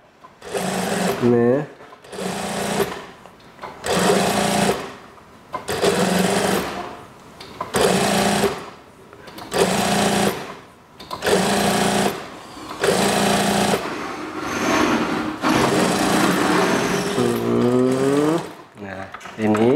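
A sewing machine stitches a folded hem in bursts of fast whirring, about eight runs separated by short pauses, with someone talking over and between them.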